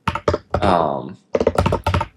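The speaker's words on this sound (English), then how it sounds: "Typing this out is not the fastest, but that's fine." Computer keyboard typing at a desk while someone codes a solution to an Advent of Code 2024 puzzle, with quick clustered keystrokes close by, mixed in with someone speaking.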